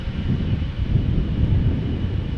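A KLM Boeing 777-200, registration PH-BQK, rumbles with a broad, steady low roar as it departs Amsterdam Schiphol Airport, heard up close and loud with wind noise.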